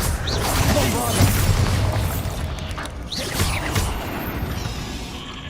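A Bombarda blasting spell goes off in Hogwarts Legacy, booming impacts with swooshing, crackling bursts, one near the start and another a few seconds later, loud and close, with speech present.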